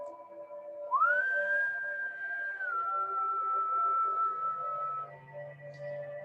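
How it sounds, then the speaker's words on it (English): A man in a neighbouring toilet stall whistles a single clear note that slides upward and holds, then drops to a lower sustained tone, fairly close and alone. "he has become irritable by the whistling. There it goes again."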